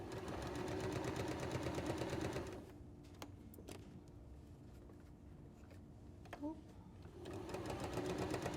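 A sewing machine runs loud and steady while stitching a unicorn appliqué, stops for a few seconds with small handling clicks, then resumes near the end.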